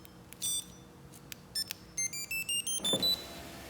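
A Viper remote starter system signalling from its auxiliary button, with a series of short electronic beeps and chirps in a quick run, followed by a brief low motor whir from the car's power windows.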